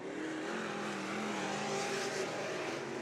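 Dirt track race cars in a heat race at Stockton Dirt Track, engines droning and whining together at a steady, moderately distant roar with a slight rise and fall in pitch.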